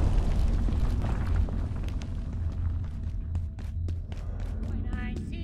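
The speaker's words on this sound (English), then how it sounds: "I hear tons of gunfire." Gunfire in the video game Abiotic Factor, a dense, continuous barrage of rumbling blasts and sharp reports, loud and sustained with voices talking over it.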